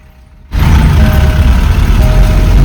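Vehicle engine on the road on a family trip toward Vangani, a loud steady rumble and road roar that begins abruptly and holds constant at close range with no talk.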